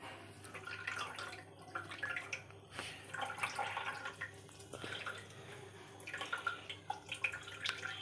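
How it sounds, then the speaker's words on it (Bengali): Grated bottle gourd being squeezed by hand to press out its water, giving faint wet dripping and trickling into a bowl, soft and close, with no talking. "এখন লাউয়ের জলটা বের করে নিতে হবে।"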